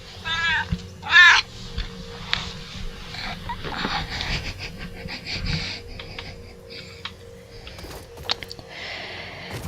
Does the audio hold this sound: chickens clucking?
no